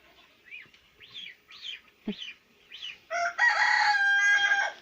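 Several short hen clucks and calls, then a rooster crows loudly and close by.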